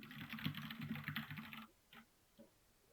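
Quick bursts of typing on a computer keyboard clatter for about a second and a half, then fall to a few isolated key taps in quiet.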